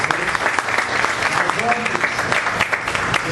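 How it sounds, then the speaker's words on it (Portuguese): A church conference congregation breaks into sustained, even applause, a thick wash of clapping that holds at steady volume, with faint voices underneath. "Uma salva de palmas para vocês."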